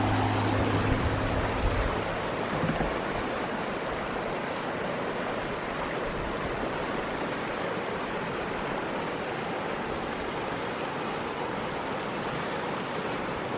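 Shingle Creek runs close beside its bank, a steady broadband rush of moving water that stays loud and unbroken throughout, with no voices over it.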